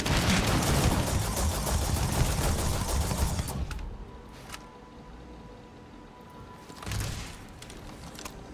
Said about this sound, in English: I'm gonna use a big gun on you